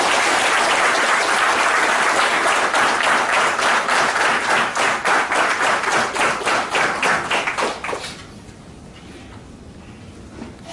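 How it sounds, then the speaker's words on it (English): An audience at a hospital celebration for ISRO scientists applauds loudly, the dense clapping turning into a few rhythmic unison claps before stopping abruptly near the end, leaving quiet room tone. "Give a thumping clap for these scientists who have made this wonderful thing."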